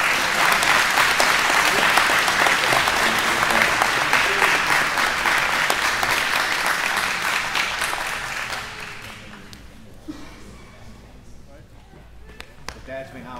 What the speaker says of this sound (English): Big round of applause for all the dads.